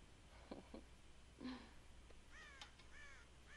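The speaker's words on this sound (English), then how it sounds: "God damn crows!" Crows caw in Red Dead Redemption, a few harsh, drawn-out calls arriving in short bursts over a low ambient background, moderately distant and fairly faint.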